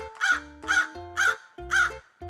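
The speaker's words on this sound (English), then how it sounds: "The crow ate the food and then sang." A crow caws loudly and close, giving four harsh, evenly spaced calls with a fifth beginning at the end, with no voices.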